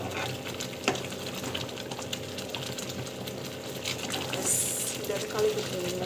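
Rava kesari is stirred in a pan, giving soft, faint scraping and sizzling sounds under a person talking throughout.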